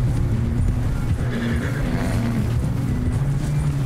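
A horse whinnies in the video game Red Dead Redemption 2 amid a dense wash of noise, the call merging with hoof clatter and a low rumbling bed.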